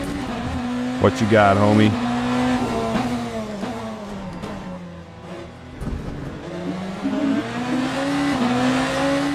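A Ferrari race car in the racing sim Le Mans Ultimate, engine droning steadily with rising and falling revs and a brief squeal of tyres through a corner, heard under someone talking.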